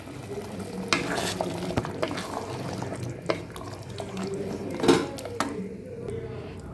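A spoon stirs pieces of mutton in water in a pot or pressure cooker while making seeraga samba mutton biryani, producing sloshing scrapes and occasional metallic clinks over a steady background.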